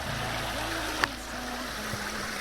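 A small river at a campsite in France gives a steady, soft rush of flowing water throughout, with a brief knock partway through and no talking.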